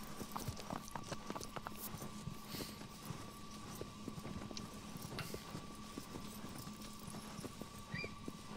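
Horse hooves clip-clopping at a steady, rapid gallop in the video game Shadow of the Colossus, faint and continuous over a soft outdoor ambience.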